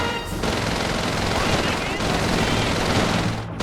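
An MG42 machine gun firing in Call of Duty 3 on PS2, a dense, loud, continuous stream of rapid fire filling the whole moment with only a brief break near the start.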